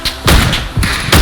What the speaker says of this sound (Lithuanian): Bet girdžiu, kad iš ten šaudo